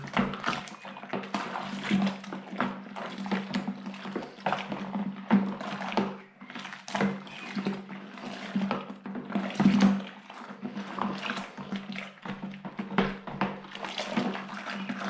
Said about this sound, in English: once we've got the sugar in, just give it a good stir again.